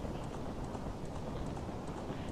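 Galloping horse hooves from The Legend of Zelda: Ocarina of Time beat in a quick regular clip-clop pattern, soft and continuous, with nothing else on top.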